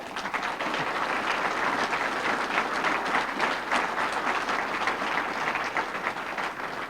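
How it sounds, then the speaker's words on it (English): Sustained applause from an audience at the 2005 NEAR Hall of Fame induction ceremony, a dense, even wash of clapping hands lasting about seven seconds at a steady, moderate level. "Let's hear it one more time from the gentleman racer from Pelham, New Hampshire, Nate Smokey Boutwell."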